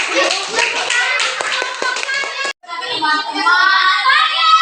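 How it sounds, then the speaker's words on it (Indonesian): Classmates clap after a group presentation in a school lesson, a short burst of close hand claps with children's voices mixed in, breaking off briefly before chatter resumes. "Tepuk tangan dulu."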